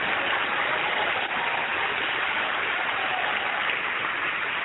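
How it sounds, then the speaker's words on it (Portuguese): A church congregation applauds in a dense, continuous wash of clapping that holds at an even level throughout without a break. "Vamos aplaudir muito o nosso Senhor."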